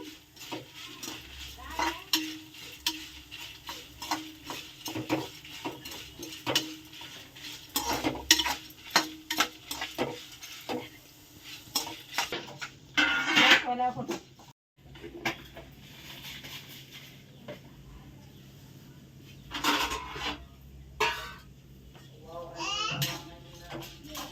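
Dry red chillies roast in a pan while a spoon scrapes and stirs them, giving irregular clinks and knocks against the metal over a soft background sizzle.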